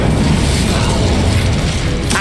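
Incendio fire spell cast in Hogwarts Legacy, a dense continuous roaring burst with mechanical crackle that stays loud for about two seconds, then a brief bright flare at the end.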